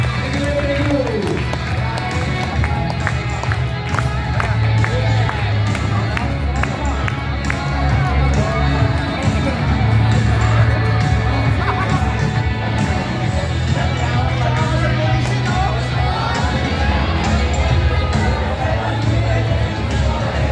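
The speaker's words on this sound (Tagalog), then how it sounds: "Once again, our chairman, Dr. Ed Camantog, milyon-milyon palakpak!" Crowd at an event clapping and cheering for the chairman, a continuous loud roar of applause mixed with voices and crowd babble, with music-like tones underneath.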